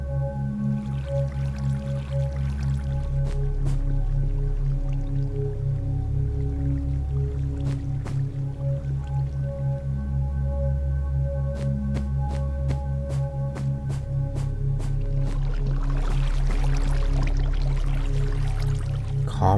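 Steady trickling and dripping of flowing water in Minecraft Alpha 1.1, a calm, continuous liquid wash running for the whole stretch under a soft tonal music bed, with no voices.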